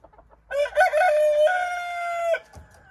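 A rooster crows one loud, close cock-a-doodle-doo lasting about two seconds on a Korean farm, with soft clucking from the surrounding hens just before and after.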